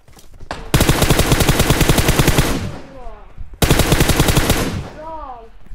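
Automatic fire from an M416 rifle in a video game, two long rapid bursts of dense, loud shots separated by a brief pause, each followed by a short ringing tail.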